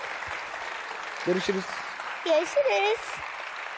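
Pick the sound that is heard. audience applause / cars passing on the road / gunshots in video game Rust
audience applause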